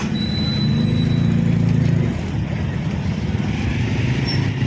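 Road traffic and a jeepney passing on a busy Philippine road, a continuous low engine rumble rising and fading, fairly loud and close with some faint high whines.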